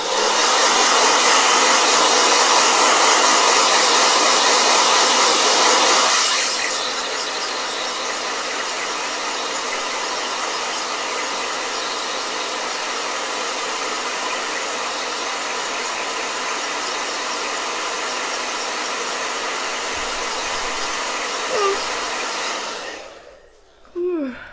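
A blow dryer roars loud and steady at close range, running at higher power for several seconds, then continuing a little softer before switching off near the end.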